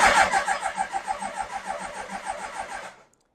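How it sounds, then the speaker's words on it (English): Carbureted Yamaha R1 motorbike cranking without catching, a rapid rhythmic starter churn lasting about three seconds before cutting off abruptly into silence, close and loud. "If we try to start the bike,"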